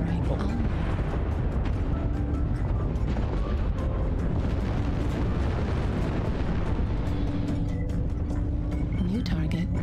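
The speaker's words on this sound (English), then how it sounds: "Artillery strike on." Booming artillery-strike explosions from a MechWarrior Online battle between giant mechs roll continuously and densely for the whole stretch, a loud, rumbling wash of blasts layered with game effects under a spoken voice.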